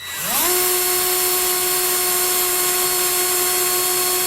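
A power screwdriver spins up quickly and then holds a steady, loud, high whine while driving the fixing screws of a Geberit One washbasin faucet, with no speech over it.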